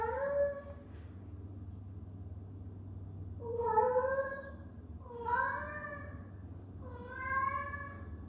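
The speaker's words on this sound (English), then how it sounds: "I actually have a video of a cat doing this type of meow." A cat lets out a series of long, drawn-out moaning meows, four wavering cries spaced a second or two apart over a low steady hum.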